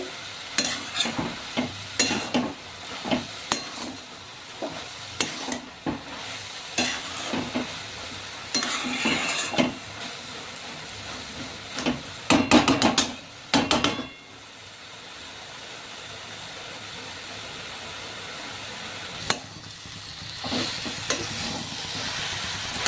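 Cauliflower and carrot paratha filling being stirred in a pan until it dries, with repeated spatula scrapes and knocks in an irregular rhythm over a light sizzle, then a quieter steady hiss toward the end.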